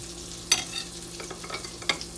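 Salmon fries in a pan of butter and oil, giving a soft, steady sizzle with a few sharp clicks and light utensil taps, fairly quiet and without talk.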